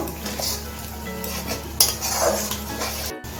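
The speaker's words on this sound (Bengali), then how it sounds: "এখন আমি 2 থেকে 3 মিনিট মশলাটা ভালো করে কষিয়ে নেব" Spice paste with turmeric and a splash of water is sautéed in a pan for egg curry, with steady sizzling and repeated clinks and scrapes of a spoon against the metal pan, close up, ending in a brief cut of silence.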